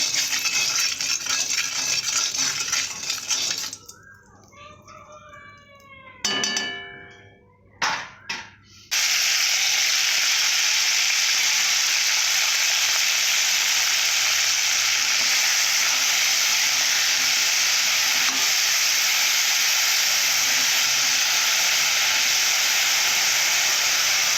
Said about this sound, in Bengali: লবণ দেব অল্প করে তেলেতে ভালো করে কড়াতে মাখিয়ে নেব কড়াতে